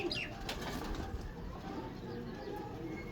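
A large, high-quality pigeon, white with light red specks, of an old Parsi breed, gives soft, faint coos and brief wing flutters against quiet background noise.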